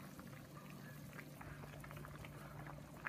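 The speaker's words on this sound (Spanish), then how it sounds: "Las lentejas ya están hirviendo." Lentils boil in a pot on the stove, giving a faint, steady bubbling and simmering texture with small pops throughout. A low hum runs underneath, and no one speaks.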